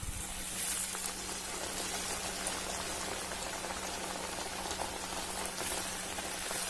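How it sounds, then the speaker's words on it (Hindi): Puris made with bottle gourd dough deep-fry in hot oil, giving a steady, dense bubbling hiss that runs evenly throughout with no breaks. "और इसे हल्के हाथ से दबा दबा कर फ्राई करेंगे ताकि हमारी पूरी फूल जाए।"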